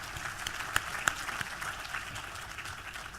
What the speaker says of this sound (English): we got to give them a round of applause for that.